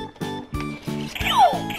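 A Masked Rider style toy transformation belt plays an electronic sound effect triggered by a card, a rhythmic series of synthetic tonal pulses with a rising chirp, close and moderately loud.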